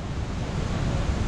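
Huka Falls in New Zealand, a powerful waterfall swollen with spring snowmelt, gives a steady, dense roar of rushing water that holds constant and loud throughout, with no voices.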